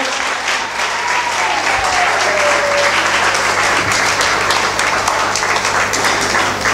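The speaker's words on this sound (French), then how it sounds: "Est-ce que vous pouvez acclamer le Seigneur?" Church congregation applauding loudly and steadily throughout, a dense wash of many hands clapping, with faint voices cheering underneath.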